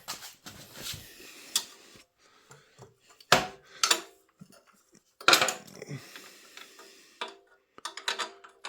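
Metal socket clinks and taps against a mounting bolt on the exhaust of a Kawasaki Concours 14 motorcycle during a Delkevic 18-inch slip-on install, with scattered sharp ticks and clatters separated by quiet gaps, close and moderately loud.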